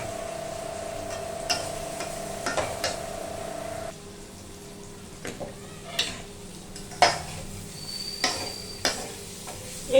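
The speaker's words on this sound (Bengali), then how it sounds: "এবার আলুগুলো দিয়ে দেবো।" Potatoes go into a spice paste frying in a pan for a vegetarian aloo dum, followed by a soft sizzle and intermittent scraping and clinks of a spoon stirring against the pot, close and moderately quiet.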